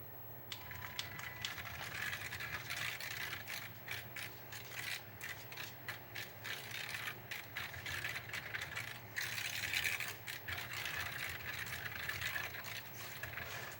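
A kitchen mixer running while making mock Nestle Crunch, giving a steady low motor whir under repeated rattling and scraping clatter, close and moderately quiet, with no talk.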